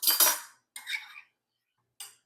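A metal spoon scrapes and clinks in a bowl while oatmeal and water are stirred together: one longer burst of scraping, a second shorter one, then a brief final clink, all close and fairly quiet, with no talking.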